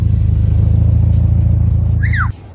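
A supercharged car engine idles with a loud, deep, pulsing rumble that cuts off abruptly near the end, while a brief rising-and-falling whine sweeps over it just before the cutoff.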